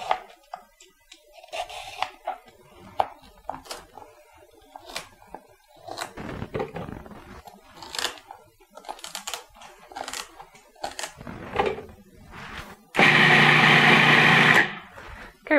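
Garlic cloves and carrot, celery and other vegetables chopped on a board, heard as irregular close knife taps and clatter with quiet gaps, then a loud burst of steady whirring near the end; no speech.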